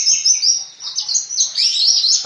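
A branjangan bush lark chirping up close, a rapid, continuous stream of high, thin tweets and trills, loud and clear with no talk over it.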